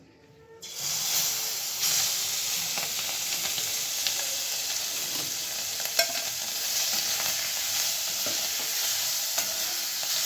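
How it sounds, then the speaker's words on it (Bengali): Prawns hit a little hot oil in a pan and break into a sudden loud sizzle that keeps hissing steadily, with occasional stirring scrapes and pops, close and without speech. "মাছটা একটুখানি ভেজে নেব হালকা করে।"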